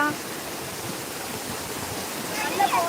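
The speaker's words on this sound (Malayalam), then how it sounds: "ഇവിടെ വെള്ളച്ചാട്ടത്തിൽ വന്നേ ഗോൾഡ" A waterfall where people have come to bathe gives a continuous, even rushing roar of falling water that fills the whole clip, with no breaks.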